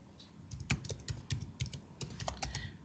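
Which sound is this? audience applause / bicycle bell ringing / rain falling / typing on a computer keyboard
typing on a computer keyboard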